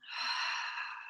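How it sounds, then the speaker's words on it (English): A single soft breath is pushed out through the mouth during a guided yoga breathing exercise. It is close and gentle and lasts about a second, with no voice over it. "Exhale, pressing the air out your mouth."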